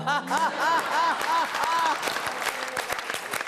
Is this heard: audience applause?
yes